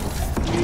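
Large hangar doors in Mass Effect Andromeda grind shut, a short mechanical creaking and ratcheting rumble that swells near the end into a steady low drone.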